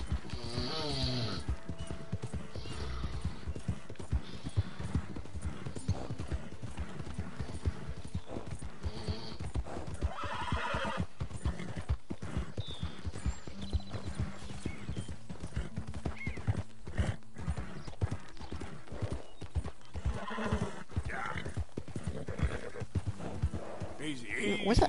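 In a PS4 video game, a horse's hooves clip-clop steadily with occasional whinnies and snorts, while people talk throughout over the game sounds.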